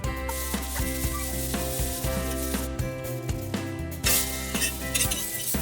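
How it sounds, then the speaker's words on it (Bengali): Dried red chillies and chopped onion frying in a pan, a continuous sizzle with rhythmic scraping and clinking of a utensil against the pan, close and fairly loud. "এবার আমি দুটো শুকনো লঙ্কা আর পেঁয়াজ কুচি দিয়ে ভেজে নেব আলু সেদ্ধতে মাখাবার জন্য"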